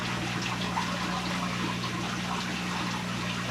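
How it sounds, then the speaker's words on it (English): Water is poured into a home aquarium beside the wave maker and circulation pump, a steady broadband splash and rush that holds at an even level throughout, over the low hum of the pump. "And I'll dump it kind of by where my wave maker is, or my circulation pump."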